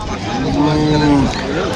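A Friesian cow at a cattle market gives one long, loud, close moo, followed by a shorter rising call.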